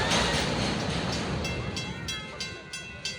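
A train passes on the rails nearby, loud at first with a rushing, rattling roar that eases off, with a few sharp clacks near the end.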